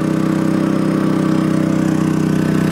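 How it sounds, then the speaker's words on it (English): An RV generator engine runs steadily after an hour of operation, a loud, continuous droning chug with an even low pulse and no breaks, heard alone without voices. "Let's go see how the generator's doing. It's been an hour. Still chugging along."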